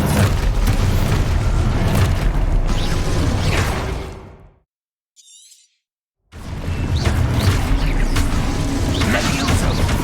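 An Expulso explosion spell in Hogwarts Legacy bursts loud with shattering debris and rumbling roar, cuts to near silence with a faint crackle, then the heavy explosive din returns.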